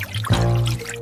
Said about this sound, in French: Je vais mettre tout ça sur la poêle. Je vais ajouter du sucre, de l'eau.